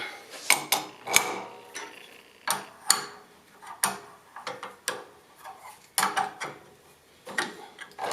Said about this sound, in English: Loosen this collet up.